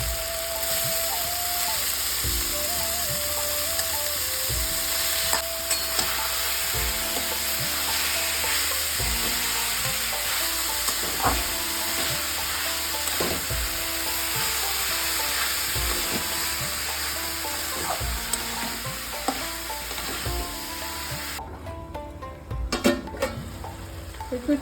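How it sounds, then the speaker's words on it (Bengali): Banana flower curry fries in oil in a pan, with a steady loud sizzle throughout and rhythmic scraping and clinking of a spatula stirring and pressing the mixture, no voices. "একটু চাপা দিয়ে দিয়ে ভেজে নিতে হবে"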